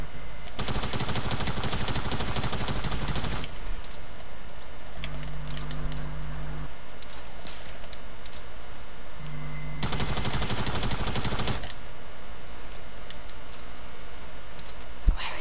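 Tactical SMG fire in a video game comes in two long, dense full-auto bursts, loud and close, separated by quieter in-game ambience and short tonal beeps.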